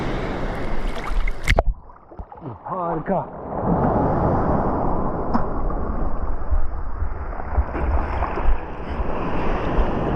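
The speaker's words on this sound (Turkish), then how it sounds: "Bakın dalgaya bakın arkadaşlar. Çok büyük." Loud surf from large Mediterranean waves roars and crashes continuously at a cove, with strong wind buffeting the microphone; a person speaks briefly at the start.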